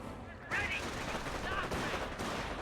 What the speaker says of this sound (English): AT guns will start firing away against it.